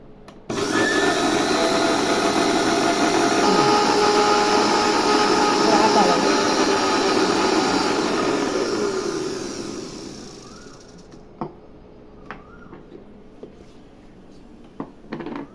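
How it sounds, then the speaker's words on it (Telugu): A mixer grinder blends veg mayonnaise at high speed, a loud steady motor whir that runs for about nine seconds, then winds down and stops, followed by a few faint clicks. "హై స్పీడ్ మీద గ్రైండ్ చేయాలండి"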